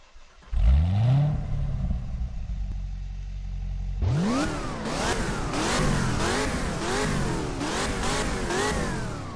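Chevrolet Blue Devil engine in the Driving Empire racing game: a short starter rise, a low idle, then a loud burst of repeated revving that climbs and falls in quick waves.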